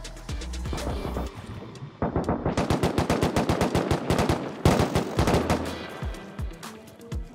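Automatic gunfire in the survival game Rust rings out in rapid bursts, with dense fast volleys loud and close through the middle and later stretches, alone without talk.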